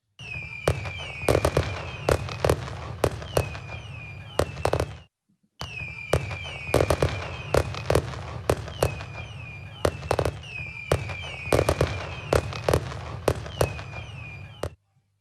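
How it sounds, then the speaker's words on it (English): A fireworks display with rapid crackling bursts and pops in dense clusters, repeated in two long volleys separated by a brief silence, sharp and fairly loud. "And a couple more fireworks."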